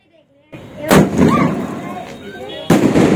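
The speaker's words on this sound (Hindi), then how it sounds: "अभी इसमें आग लगाएंगे और देखेंगे किस तरह का आसमान में जाके फ्लावर बनाएगा।" Sky shot firework lit and bursting during Diwali cracker testing, a sharp loud launch crack followed by a crackling burst, then a second loud bang near the end.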